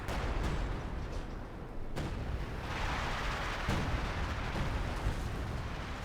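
Howitzer artillery barrage in Company of Heroes 2, a steady stream of booming shell impacts and rumbling blasts, some near and sharp, others distant, over continuous battle noise.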